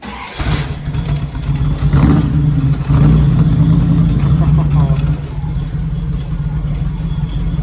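A 1936 Dodge pickup running BOSS EFI fires up and settles into a steady, loud mid-pitched idle, with a rev swell early on and a constant rumble throughout; a voice speaks briefly over it.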